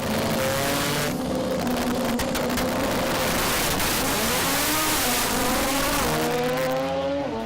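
A rotary-engine drag race car, a 13B two-rotor Mazda RX-8, revs hard and loud at an event in Melbourne, Australia, its buzzing engine note rising and falling in sustained waves with no speech over it.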